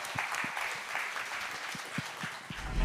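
Scattered clapping from a small group, fairly faint and uneven, with distinct individual claps standing out over a soft background wash.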